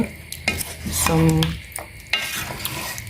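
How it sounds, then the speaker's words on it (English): Brown stew chicken with Jamaican jerk seasoning cooking in a pot, close stirring scrapes and clanks over a soft sizzle, with a brief humming tone in the middle. "Allow the seasonings to cook."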